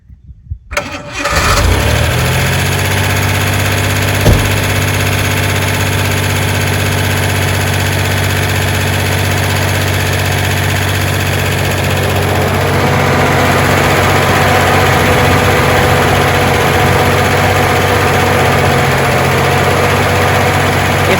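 Engine of a 1987 Ford Bronco II cranking and catching, then settling into a steady, loud, even idle that runs on alone without pause.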